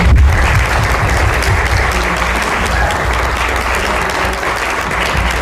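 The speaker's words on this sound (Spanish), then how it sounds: "le pido un aplauso para él, autor de este libro" A crowd applauds the author of a book at his book launch, dense steady clapping that stays loud and even across the whole stretch with no voices over it.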